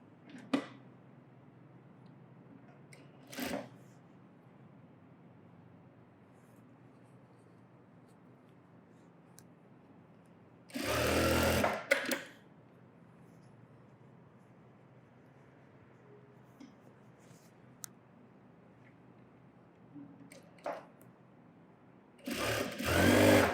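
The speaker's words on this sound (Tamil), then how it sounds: "இப்போ இந்த டாப்போடு இதை வச்சு தைக்க போகிறோம்" A sewing machine stitches a long frock in two short, loud bursts of rapid whirring, separated by long quiet stretches with small clicks and handling sounds.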